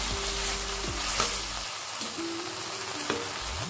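Tomato sauce and soy sauce sizzling in a hot pan, a dense continuous frying hiss with occasional soft stirring scrapes, close and steady throughout.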